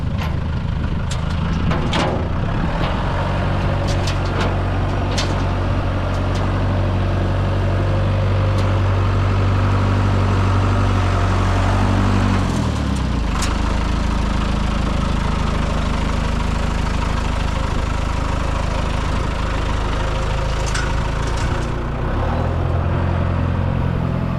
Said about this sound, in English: I guess he's picking it up with the tractor.